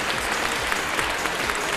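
Audience at the Miss Western Ukraine Bukovina OPEN 2010 beauty pageant claps steadily and evenly, a thick, sustained burst of applause with no break.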